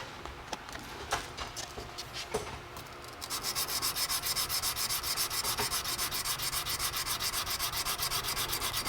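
A Damascus steel chef's knife blade is hand-sanded on fine-grit paper. A few scattered scrapes give way to fast, even, rhythmic rubbing strokes close to the mic.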